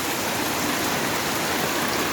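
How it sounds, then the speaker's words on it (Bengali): Sudden heavy rain from a monsoon low-pressure system, a dense, even hiss of downpour close by, steady throughout with no voices. "এই বৃষ্টিটা মানে হঠাৎ করেই এলো"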